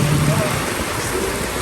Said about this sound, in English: yeah, it's raining. Still.